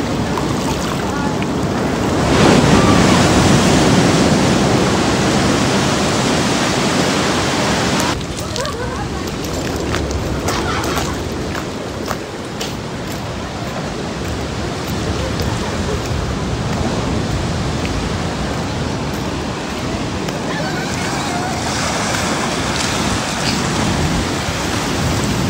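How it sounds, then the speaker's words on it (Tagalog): Strong ocean waves crash and roll in loudly at Cabongaoan Beach in Burgos, Pangasinan, a continuous heavy surf roar with wind buffeting the microphone and excited voices calling out over it. "Ang lakas ng alon guys."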